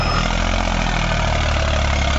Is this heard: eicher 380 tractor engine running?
yes